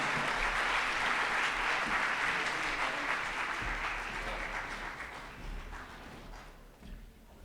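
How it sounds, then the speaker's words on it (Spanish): Audience applause for a ballistics lecturer at a firearms identification talk, a sustained burst of clapping that is fairly distant and soft, slowly tapering off over several seconds. "ese aplauso para él"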